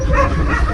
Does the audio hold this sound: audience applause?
no